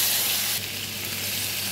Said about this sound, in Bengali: এবার আমি সেদ্ধ করে রাখা মটরটা দেবো একটু করে দেবো আর নাড়িয়ে নেব মশলাটার সাথে।